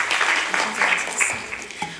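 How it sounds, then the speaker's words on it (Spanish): A brief burst of audience applause welcoming a speaker at a professional panel, fairly loud and close, fading near the end with a voice briefly audible. "Por favor, vamos a brindarle un aplauso y le dejamos la palabra."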